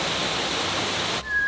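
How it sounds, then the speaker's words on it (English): A tall horsetail waterfall in Massachusetts pours in a steady, dense rush of falling water, close and continuous, cutting off abruptly near the end. "it's quite a tall waterfall and one of the best examples of a horsetail falls"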